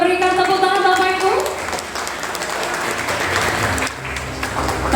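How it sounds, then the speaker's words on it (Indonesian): Audience applause at a signing ceremony for a JAECOO dealership grand opening in Solo, steady clapping that rises after a short musical tone and continues under announcer talk. "kita berikan tepuk tangan Bapak Ibu"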